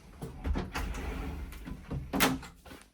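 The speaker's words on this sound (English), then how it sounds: "This door does close," A bunk room door in a Holiday Rambler RV is handled and closed, giving a few soft knocks and sliding bumps, then a louder latching thud near the end, heard close and alone.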